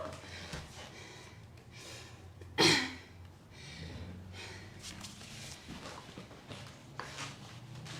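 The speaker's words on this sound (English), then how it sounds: "I apologize for heavy breathing" Heavy, labored breathing after a HIIT workout, with a sharp snort-like gasp partway through and quieter breaths throughout.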